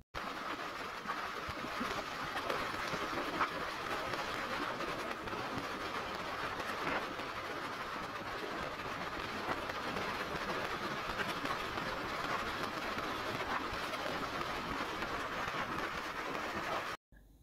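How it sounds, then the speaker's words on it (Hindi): A Yamaha YBR 125 motorcycle cruises in fifth gear, its engine and the rushing wind blending into a steady, loud, continuous roar that runs unbroken through the whole ride with no voices. "YBR के भी अपने शशके हैं, पाँचवें गेयर में इस वक्त जा रही है।"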